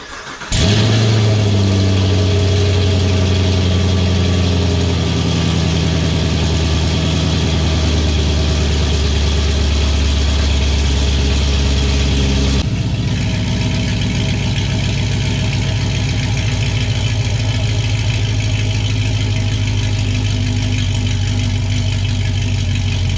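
A 6th gen Camaro V8 with Speed Engineering headers and an X pipe fires up and settles into a loud, deep, steady idle close by, with a brief rev early on and no talk.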